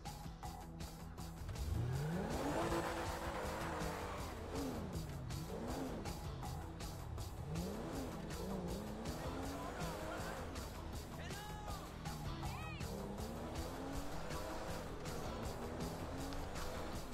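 Grand Theft Auto 5 cars race with engines revving and winding up and down continuously, tires squealing and cars passing close, a steady loud roar throughout.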